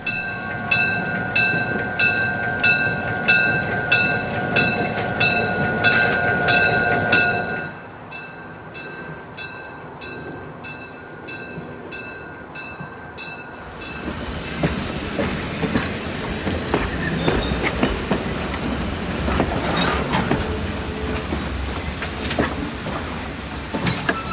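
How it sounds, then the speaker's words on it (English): A train led by locomotive 5623 rumbles past nearby in Niles Canyon with rhythmic clickety-clack and squealing wheels, loud throughout and shifting in tone partway through, no voices. "5623 leads the train into Niles."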